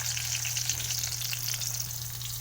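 Eggplant omelette (tortang talong) fries in a pan, a steady, even sizzle with crackling hiss throughout and a low hum beneath, no voices.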